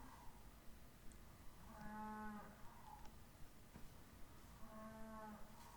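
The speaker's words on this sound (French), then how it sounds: "La vache." A cow moos twice, each call a drawn-out tonal low, well apart over a quiet background dotted with faint regular ticks, no voices present.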